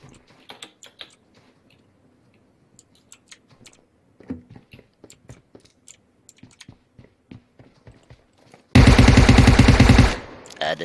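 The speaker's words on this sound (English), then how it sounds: "Shots fired." Gunfire in the mobile battle-royale game PUBG Mobile: scattered quiet clicks and single shots, then a loud, dense burst of rapid automatic fire lasting about a second and a half near the end.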